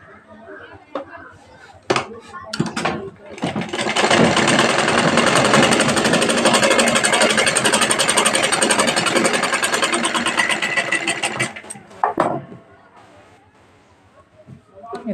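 A sewing machine stitches pleats into a blouse in one continuous, loud, even run of about eight seconds, framed by a few sharp clicks and brief talk before and after.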